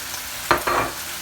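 Spices dropped onto chicken frying in a pan, two quick bursts of loud close sizzle that then settle back into a quieter hiss.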